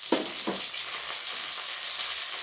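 Four chopped green chillies drop into a pan of well-fried onions, giving a loud sizzle burst at first that settles into a steady, even frying hiss with no voices.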